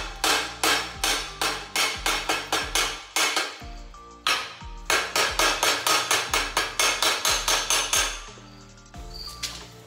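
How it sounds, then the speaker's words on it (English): A hammer chips slag off weld buttons in fast, sharp, ringing metal strikes. They come in bursts with brief pauses, close and loud. "We'll go ahead and chip off that slag and take a look at them."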